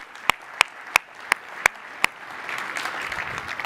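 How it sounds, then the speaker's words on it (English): Conference audience at the 2017 Adobe Worldwide Sales Conference: six sharp, evenly spaced claps ring out, then a broader wash of applause swells and continues to the end. "I think that those folks who are here today doing the sales jam prep deserve an extra special round of applause"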